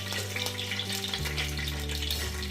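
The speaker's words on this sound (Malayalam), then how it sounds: "ഇതിട്ട് നല്ലോണം മൂപ്പിക്കുക" Cinnamon, cloves, cardamom and star anise sizzle in hot oil for a chicken pulao, with a close, steady frying crackle, a scrape of stirring and a low background hum.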